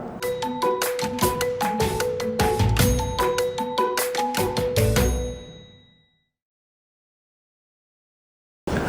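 A notification bell sound effect: a quick run of bright, ringing ding chimes repeating rhythmically for about five seconds, then fading into silence.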